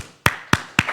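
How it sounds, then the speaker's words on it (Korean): A congregation claps in unison three times in a church service, each clap a sharp, loud burst spaced about a quarter second apart, with no voices heard over it. "박수."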